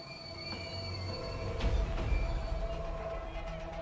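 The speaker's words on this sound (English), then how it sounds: "the armoured train exercises sufficient caution to slow down" An armoured train rolls along a rail line as it slows down, with a steady low rumble of wheels and carriages and a swell of heavier clanking in the middle, heard alone and at moderate distance.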